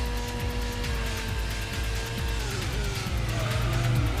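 Race car engines droning and shifting pitch in Gran Turismo on PS1, a continuous loud whine with gear changes and overlapping cars, sitting under game music.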